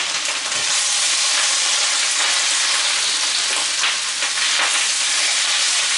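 Caramelized onions sizzle steadily in a frying pan while a rubber spatula stirs them, giving a loud, continuous hiss with scraping and bursts of crackle throughout.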